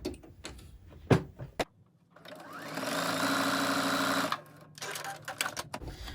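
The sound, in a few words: sewing machine stitching fabric coffee sleeve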